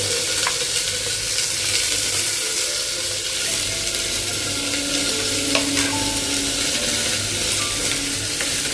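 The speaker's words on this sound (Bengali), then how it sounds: "এবার দেবো আমি পেঁয়াজ" Onions fry in a pan for tomato rice with a loud, steady sizzle. A spoon scrapes and stirs close by throughout, and no voices are heard.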